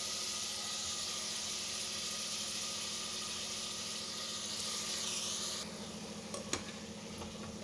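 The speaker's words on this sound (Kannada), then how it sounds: "ಇದು ಹಸಿ ವಾಸನೆ ಹೋಗೋವರೆಗೂ ಸ್ವಲ್ಪ ಫ್ರೈ ಮಾಡಬೇಕು." Snake gourd pieces frying in oil with onions in a cooker, a steady broadband sizzle running continuously and close, easing slightly toward the end with a brief clink near the close; no talking.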